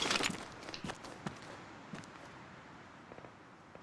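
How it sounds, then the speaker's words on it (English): Several quiet, uneven footsteps in the online shooter Vigor, a few scattered light steps clustered early then sparse, faint under low game ambience with no talk. "I hear footsteps."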